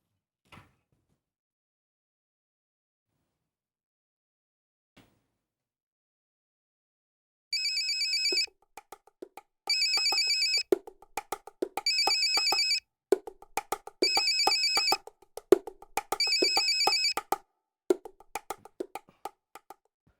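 A mobile phone ringtone repeats in regular bursts of bright electronic melody for about ten seconds, loud and close, after a near-silent stretch with a couple of faint clicks, and no talk.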